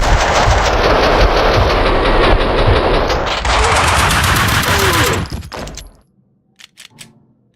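Sustained automatic gunfire from the Max Payne 2 video game, a loud dense rattle of rapid shots lasting about five seconds, then cutting to quiet with a few sparse sounds after.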